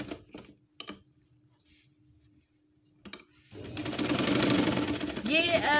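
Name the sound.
sewing machine stitching fabric basket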